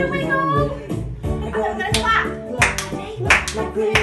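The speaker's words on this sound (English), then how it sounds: "And then we're going to clap." Children clap their hands along to a sung action song, several sharp claps falling in rhythm beneath a singing voice.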